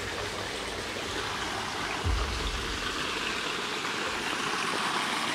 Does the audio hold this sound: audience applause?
no